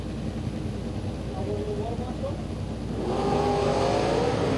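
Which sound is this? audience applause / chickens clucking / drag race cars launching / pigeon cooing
drag race cars launching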